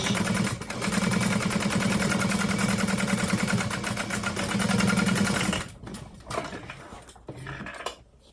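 A sewing machine runs fast and close, top stitching a fabric handbag with a long stitch length, its rapid mechanical chatter continuous for about five seconds before stopping and giving way to brief handling noises and faint rustling.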